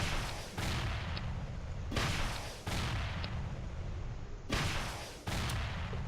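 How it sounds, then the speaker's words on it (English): In the video game 7 Days to Die, a rocket launcher fires off all its rounds in quick succession. The result is a string of heavy, booming blasts, five or six of them, one every second or so, each rumbling into the next. "I'm going to take this rocket launcher, and I'm just going to shoot off all the rounds"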